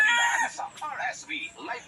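A rooster crows nearby, its call rising and breaking into drawn-out notes, loud and close.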